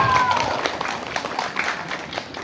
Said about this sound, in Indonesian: Prestasinya luar biasa. Tepuk tangan dong.